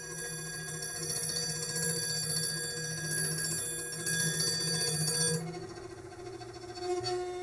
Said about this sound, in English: But then if you bow it, you get a completely different sound out of it.